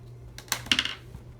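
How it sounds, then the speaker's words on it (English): An X-Acto knife slices through sticker sheets, giving a few short, close scratchy cuts and clicks over a low steady background hum. "So I'm just gonna use the X-Acto knife and try to get it as close to the center as possible"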